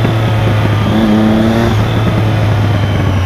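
A Yamaha XJ6 motorcycle engine roars loudly and close, holding a steady drone with a brief rising rev partway through.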